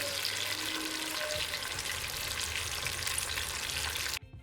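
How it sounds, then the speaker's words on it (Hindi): Taro root pieces fry in oil for an arvi masala, giving a dense, even sizzle close up that stays steady before cutting off abruptly at the end, with no voices. "इसको हम अच्छे से फ्राई करेंगे 2 से 3 मिनट के लिए।"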